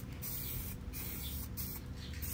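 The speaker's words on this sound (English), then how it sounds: "Putting the paint on." Textured matte spray paint hisses onto a bicycle fork, a Crust Clydesdale, applied close up in a faint, continuous spray with brief pauses.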